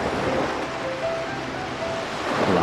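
Sea waves breaking on a shore, a steady broadband surf wash with light wind noise, loud and continuous throughout with no voices.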